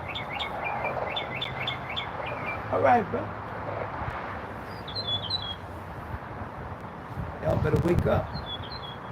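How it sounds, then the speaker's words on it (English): Small birds chirp outdoors in quick, high repeated tweets, several short bursts spread through the clip, moderately near, with someone talking over them and light wind and traffic noise underneath. "Bird?"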